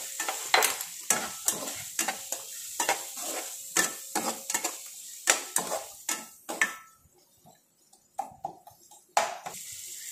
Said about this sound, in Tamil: இதை நம்ம இப்போ கிண்டி விட்டுடலாம்.